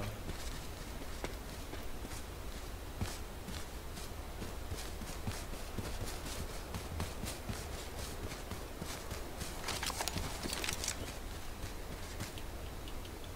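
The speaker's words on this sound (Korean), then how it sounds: "뛰면은 막 이런 막 소리가 발소리가 나거든요" Running footsteps in the video game H1Z1 patter rapidly and steadily over a constant background noise, staying faint and even throughout with no talk.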